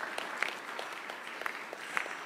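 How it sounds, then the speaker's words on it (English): Steady applause from a crowd, dense continuous clapping at moderate distance with a few sharper claps standing out, no voices. "Let's give them another round of applause."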